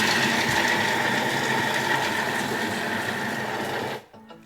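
A kitchen food processor chops zucchini at speed 5, giving a loud, steady whirring motor and blade roar that runs without a break for about four seconds before cutting off abruptly into a faint tail.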